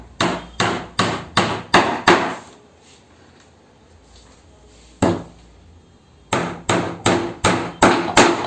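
Someone hammers 1.5 inch nails into a wooden folding diwan bed frame. Sharp, evenly spaced hammer blows come in a quick run of about six, then a single strike after a pause, and then another steady burst.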